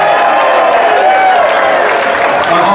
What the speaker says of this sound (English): Let's give y'all a nice round of applause.